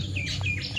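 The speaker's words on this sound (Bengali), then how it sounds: "এই যে পাখি, পাখি ডাকে দেখো" A small bird chirps in quick, high tweets, clear and fairly close, over a low background hum.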